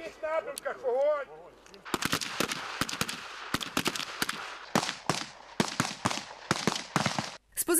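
Soldiers fire rifles at a military shooting range, some from a standing position. A shouted command comes first, then a rapid, irregular string of loud, sharp shots from several shooters, some overlapping, continuing to the end.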